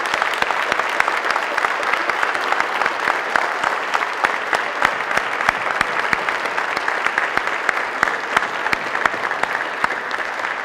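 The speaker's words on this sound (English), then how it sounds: "let's give our children an incredible, an amazing round of applause" A school crowd gives a long, loud round of applause at a pinning ceremony, dense rapid clapping sustained evenly for about ten seconds with no speech over it.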